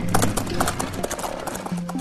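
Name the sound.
horse and buggy trotting, hooves clip-clopping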